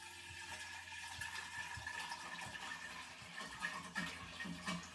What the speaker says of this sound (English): then put some water first into the pinter